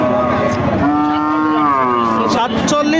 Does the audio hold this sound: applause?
no